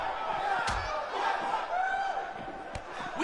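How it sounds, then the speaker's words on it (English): Arena crowd in the WWE 2K19 wrestling game, set at a sold-out event in a high school parking lot, roars in a steady loud wash with a few sharp slams and shouts rising over it. "We have a sold-out, record-setting crowd here for BCW tonight."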